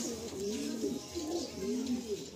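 Flying pigeons for sale in Garia, Kolkata, coo repeatedly in a steady, rolling rhythm, several low throaty calls overlapping close by with no speech.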